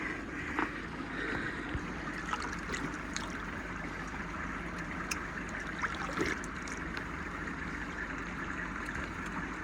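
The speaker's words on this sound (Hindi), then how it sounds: "ये है चश्मे का पानी, फ्रेश पानी चलता हुआ आ रहा है वहाँ से" Fresh spring water gushes steadily beside a mountain road on the Kohistan stretch of the Silk Route, a continuous close rushing wash with faint vehicle rumble underneath and no voices.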